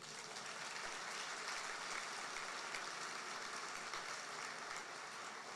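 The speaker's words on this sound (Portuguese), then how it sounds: "Podia dar um aplauso ao Senhor, o que Deus faz," A church congregation applauds, a steady, fairly faint wash of many hands clapping together continuously with no break, heard from some distance in a reverberant hall.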